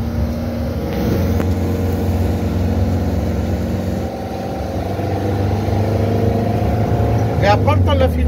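A van's engine runs steadily and builds as it accelerates, a continuous loud drone with a rising tone near the end, while people talk over it.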